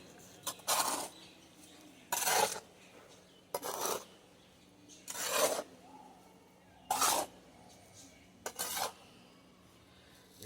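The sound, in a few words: mixing sand and cement mortar by hand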